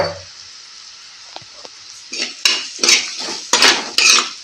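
Onions for a Kerala-style onion curry are stirred in a pan with salt and turmeric, a spoon clattering and scraping against the metal in bursts over a soft, low sizzle, close up, with no voices.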